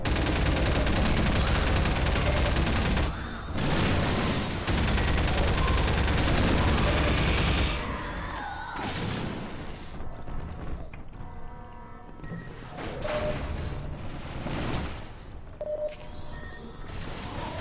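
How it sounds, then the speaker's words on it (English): Loud sustained gunfire and explosive blasts from the Half-Life video game, dense bursts for the first eight seconds, then scattered shots and hits amid quieter game sounds. "Still firing at me."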